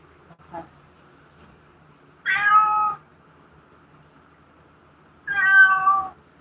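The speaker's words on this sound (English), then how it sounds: "This cat looking at me." A cat meows to be let in, with two clear, drawn-out meows about three seconds apart and a brief faint sound before them, close by against a quiet room.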